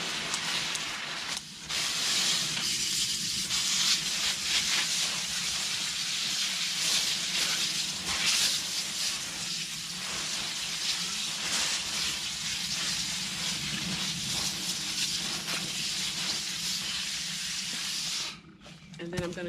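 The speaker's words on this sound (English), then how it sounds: "Going to go ahead and water that in." Water pours steadily onto leaves layered in the bottom of a grow bag, a continuous hissing splash that runs nearly unbroken, fairly quiet and close, briefly dipping near the end.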